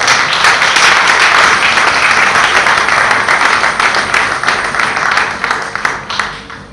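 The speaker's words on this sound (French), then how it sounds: "Est-ce que nous pouvons encore acclamer la commune?" Audience applause at a Congolese community gathering in the UK honouring Congolese heroes, a loud burst of many hands clapping that fades gradually toward the end.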